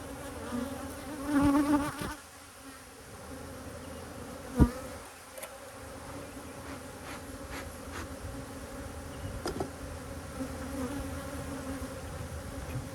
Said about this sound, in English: A lot of bees in there.